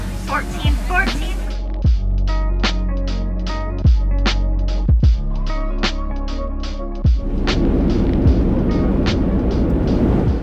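Cabin noise aboard a very full passenger flight to Las Vegas. A steady low engine drone and hum carries throughout, broken by several sharp knocks and rattles, with a broader rushing roar rising near the end.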